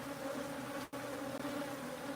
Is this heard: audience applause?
no